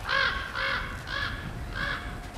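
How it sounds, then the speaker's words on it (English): Four harsh raven caws in the video game God of War Ragnarok, evenly spaced and fairly close, with no talking over them. "Where's the Raven? I don't fucking see this Raven. I keep hearing it."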